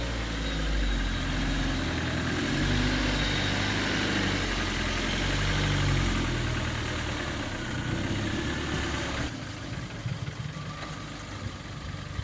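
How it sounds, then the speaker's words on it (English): A Ford Focus Mk1 car engine idling steadily up close, a constant low rumble with mild vibration, its tone dropping slightly near the end; no voices. "What an absolute peppy engine this is."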